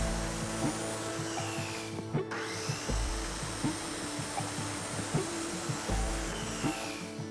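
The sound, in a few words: cutting wallboard for shower renovation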